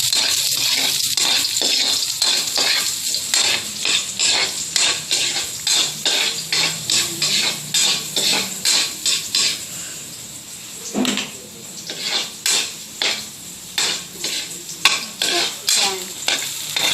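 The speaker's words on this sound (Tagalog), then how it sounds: "Lagay na natin ang garlic. Isosotay lang po natin yan." Garlic sautés in a hot pan for dinuguan, a steady close sizzle broken by quick, rhythmic stirring scrapes that come in regular bursts throughout, with no talking.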